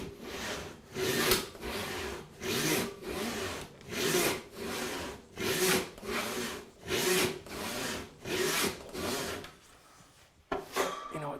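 A hand saw fitted with a 36-inch blade resaws a board in steady, rhythmic push-pull strokes, each a loud, close rasp of about a second, ending with a brief clatter.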